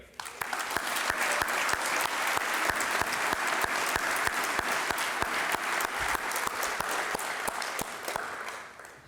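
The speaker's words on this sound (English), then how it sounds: "we will still give a wonderful round of applause for Chris Goody, Aiden Langmeyer, and Evan Rader." At a high school senior awards night, an audience gives a steady, sustained round of applause for award recipients, dense clapping with a few sharper individual claps standing out, fading at the very end.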